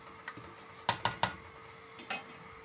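A lid set back on a pot of milk and carrots cooking on the stove for carrot halwa: three sharp metallic clinks in quick succession, then a softer knock, close and quiet with no talk.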